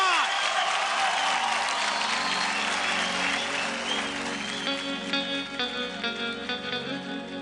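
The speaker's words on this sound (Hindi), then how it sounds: "जोरदार तालियां प्रिंस के लिए" Loud, sustained audience applause for a dancer on the stage of a televised dance competition grand finale, dense clapping with crowd noise and music running underneath throughout.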